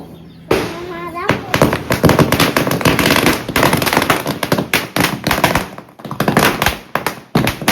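A rapid string of sharp Diwali firecracker bursts crackles loudly and irregularly, dense pops overlapping with voices in the background.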